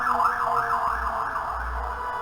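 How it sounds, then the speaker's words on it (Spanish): An ambulance siren wails outside in a steady, rising-and-falling tone, moderately loud and continuous, with a low rumble underneath and no talking. "una ambulancia o algo"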